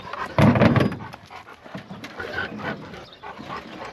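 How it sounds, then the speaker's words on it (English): Dogs, one named Bella, panting and whimpering close by, with a loud burst of movement early on followed by softer breathy pants and small whines. "The dogs think we're going somewhere"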